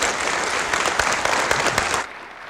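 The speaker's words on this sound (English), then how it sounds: "Let's give a round of applause." A church congregation applauds with dense, sustained clapping that carries strongly for about two seconds, then stops abruptly and leaves quiet room tone.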